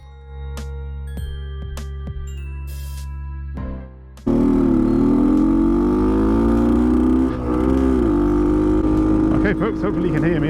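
A Bultaco Alpina 350 motorcycle on a test ride starts with a loud engine roar after some faint knocks and handling sounds. The steady, rumbling engine note then holds for several seconds with slight rises in pitch.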